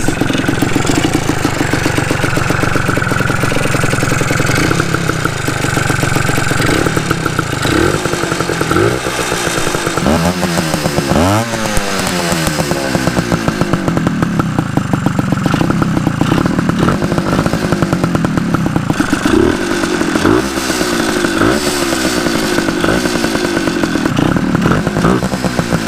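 A rebuilt Suzuki TS185 two-stroke motorcycle engine runs loud and close for the whole stretch, a buzzing, crackling idle broken by several sharp revs that climb and fall in the middle, with no talk.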